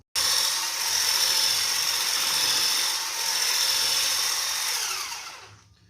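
An electric mixer beats kefir cupcake batter with cocoa, a loud steady whirring hum that runs about five seconds before winding down, with no talking.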